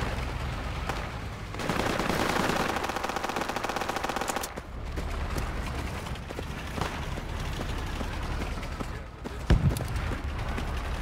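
Bursts of PPSh submachine gun fire in the military shooter Project Reality during a forest skirmish, rapid rattling volleys in the mid-distance under continuous game noise, with players talking over it.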